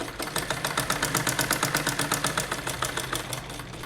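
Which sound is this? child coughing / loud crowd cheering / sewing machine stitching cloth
sewing machine stitching cloth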